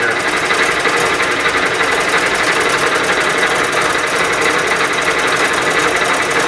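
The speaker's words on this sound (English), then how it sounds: "Try to feed it out here. Seems to be cutting okay." Fly cutter facing a workpiece on a Bridgeport milling machine: a steady, loud, dense machining whir with a rapid rhythmic chatter running unbroken through the whole stretch, no voices.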